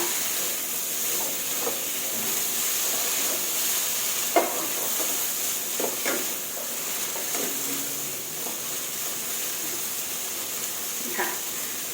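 Winter melon stir-fried in a pan gives a steady hiss and sizzle, broken by occasional scrapes and clinks of the spatula. The sizzle is fairly loud and close throughout.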